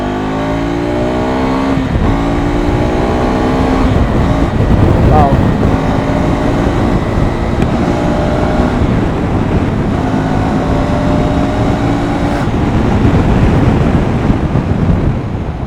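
A KTM adventure tourer motorcycle engine drones steadily at speed, with rising and falling tones under heavy wind buffeting that stays loud throughout.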